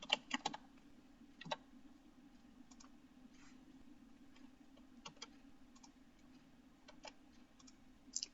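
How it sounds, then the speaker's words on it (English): Typing on a computer keyboard while filling in a Microsoft Excel sheet, with close, soft key clicks coming in short irregular bursts over a steady low hum, and no voices. "I am typing here."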